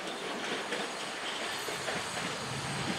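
A tram leaving the Gdańsk-Wrzeszcz tram depot rumbles close by with loud, continuous rail noise, wheel clatter and faint squeal, no voices over it.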